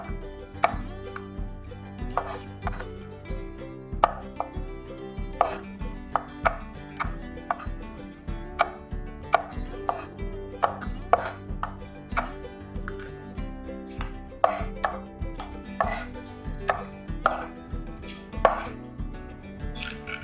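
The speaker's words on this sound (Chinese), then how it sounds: "我们接下来要把坚果切成小块" Knife chopping nuts into small pieces on a board for homemade banana oat breakfast bars, steady sharp rhythmic knocks repeating for the whole stretch, close and clear with no voices.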